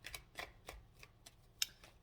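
Tarot cards shuffled by hand, giving a run of soft riffling bursts and light slaps with one sharper snap near the end, close by with no talking.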